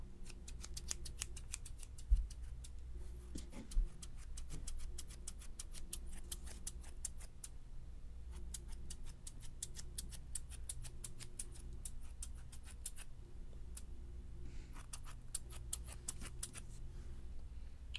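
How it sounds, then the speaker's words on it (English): Rapid bursts of scissors snipping up close, recorded with a binaural microphone, crisp repeated cuts in clusters separated by short pauses, over a low background hum. "I'm going to do some scissor sounds."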